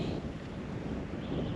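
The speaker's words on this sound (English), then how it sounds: "it's really windy out." Gusty wind sweeps steadily across an open frozen lake during ice fishing, a continuous broadband roar buffeting close to the microphone with no voices present.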